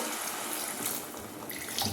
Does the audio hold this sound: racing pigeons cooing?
no